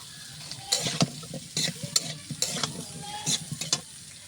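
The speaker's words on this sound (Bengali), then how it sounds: "তো বেগুন সুন্দরভাবে কষানো হয়ে গেছে" Eggplant is stir-fried in a pan with turmeric. A spatula scrapes and stirs in repeated bursts over a soft, continuous sizzle, heard up close with no talking.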